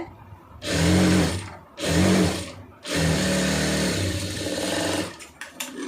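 Close, loud sewing machine stitching an armhole joint in three bursts, two short runs followed by a longer steady one, each starting and stopping sharply, with no voice over it.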